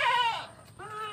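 A goat on a farm gives one close, loud wavering bleat, then a second shorter call follows after a brief pause.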